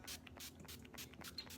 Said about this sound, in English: Now I'm just gonna spray my face with the Urban Decay AllNighter spray.